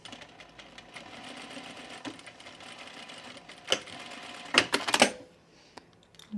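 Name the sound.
sewing machine top stitching leggings fabric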